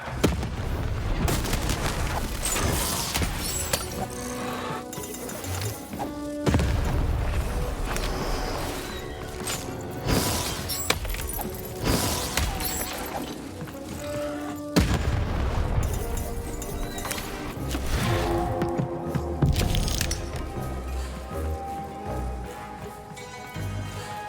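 Cannon fire in the video game Lost in Random: repeated heavy booms cut through a dense, continuous bed of game music and effects.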